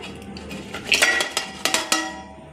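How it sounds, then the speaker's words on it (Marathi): Pieces of fish dropped into a metal cooking pot for a fish curry make a run of close, bright clinks and knocks against the vessel, several in quick succession over a couple of seconds. "मी कालवण करण्यासाठी पातेलं घेतलं आहे, त्याच्यामध्ये आपण ही मच्छी टाकून घेऊया"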